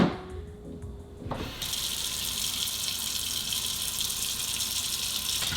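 Water gushing from a kitchen tap as oxtail is rinsed under it, a steady loud rush after a brief quieter start, close and continuous.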